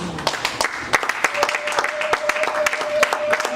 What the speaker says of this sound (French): Can you clap hands for the Lord?